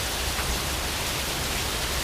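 Steady, dense rainstorm roar with no breaks, loud and close, a continuous wash of rain filling the whole clip with no voices.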